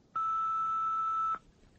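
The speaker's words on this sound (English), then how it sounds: "Please speak after the bleep." A single steady electronic answering-machine beep lasting just over a second, clean and alone, cutting off sharply into quiet.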